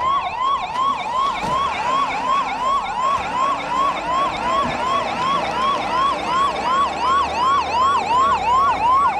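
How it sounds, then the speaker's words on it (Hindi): Rapid Action Force vehicles of the Ahmedabad unit wail with rapid, repeating police-style sirens during a demonstration, several overlapping in a loud, steady cycle throughout. "प्लाटून द्वारा बसिंग की कार्रवाई की गई तथा सायरन बजाकर गंतव्य की ओर कूच कर रही है।"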